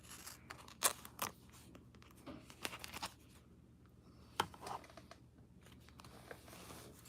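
Scissors cutting a paper coffee filter during a card-making craft session: quiet, close snips and crisp paper rustles spaced unevenly, with soft handling noises in between.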